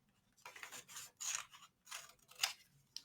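Scissors snipping through paper while cutting out a rabbit-head craft shape, a series of short, crisp cuts in close, quiet surroundings.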